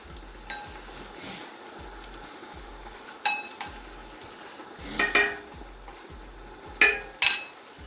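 Vegetable soup stew with crayfish cooking in a pot, giving a low steady background hiss broken by a few sharp clinks and scrapes of a utensil against the pot, with no talking.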